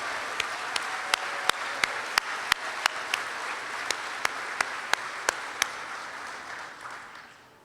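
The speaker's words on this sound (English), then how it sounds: "Please stand so that we can applaud you" Audience applause at a 2019 college convocation for award recipient Jermaine Lazenberry, a steady wash of many hands with a few sharp nearby claps standing out, fading toward the end.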